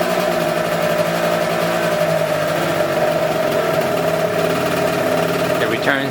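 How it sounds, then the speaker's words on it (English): A scooter engine idles steadily at a smooth, even pace with a constant hum that holds from start to finish, close and fairly loud, with a brief higher rev-like flutter near the end. "it seems the bike is idling quite well"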